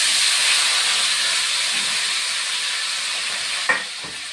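Chopped eggplant, flat beans, potato and carrot hitting hot oil tempered with dried chili and nigella seeds, giving a loud, steady sizzle and hiss that runs throughout, with a short clatter of stirring near the end.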